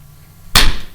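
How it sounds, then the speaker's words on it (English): A single sharp, loud hand clap, close and isolated against near silence, with a short room decay after it. "Clap again"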